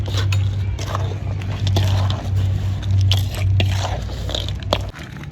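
Cement is mixed by hand for a village kitchen renovation, giving gritty scraping and crunching strokes in a repeating rhythm, close and fairly loud, over a steady low hum.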